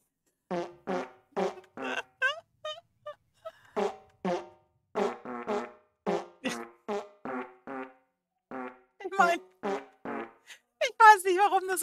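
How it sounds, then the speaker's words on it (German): Whoopee cushions in the Minecraft video game, a long series of rapid, repeated farting noises in quick succession, some longer and wobbling, loud and close with no one talking. "jetzt habe ich habe alle meine Furzkissen"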